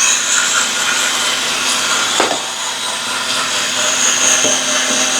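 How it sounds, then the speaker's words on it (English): A Homtronics electric shower scrubber motor runs in a steady, loud, continuous drone, with a couple of brief knocks as the brush head meets the surface, and no talking. "So this really does allow you to scrub things without bending over at all."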